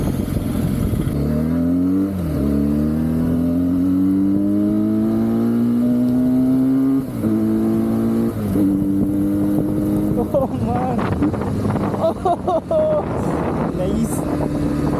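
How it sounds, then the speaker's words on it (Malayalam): A Benelli twin-cylinder motorcycle on its stock exhaust, ridden in light rain, hums close and loud, its engine note rising smoothly through the gears with brief dips at shifts and a busier rev burst near the end. "സ്റ്റോക്ക് എക്സസ്റ്റിൽ തന്നെ നൈസ് സൗണ്ടാണ്"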